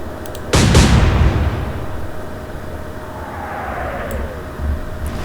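A naval gun salvo booms loudly in a World War II ship combat game, followed by a long rumbling tail and the faint whistle of shells in flight.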